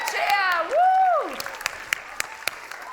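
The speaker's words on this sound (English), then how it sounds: "Give them all a great big cheer" An award ceremony crowd applauds and cheers for winners: a loud voice whoops at first, then scattered claps follow, thinning out and fading over a few seconds.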